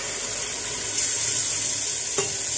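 Tomato masala for mutton curry sizzles in a pot while being stirred, a continuous loud frying hiss with a brief scrape of the spoon near the end, no talking.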